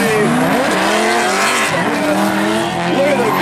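Drift race cars at a competition in Atlanta scream past with tires squealing, engines wailing and rising in pitch, loud and close throughout with a commentator talking over the noise.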